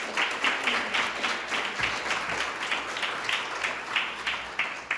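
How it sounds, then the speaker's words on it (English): An audience at a leadership class graduation applauds two people, many hands clapping in a fairly soft, rhythmic patter that carries evenly throughout the room. "Please give Chris and Laura another round of applause."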